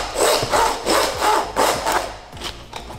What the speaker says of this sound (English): When you're sawing, you never want to cut your meat with a saw. You only cut bone with the saw.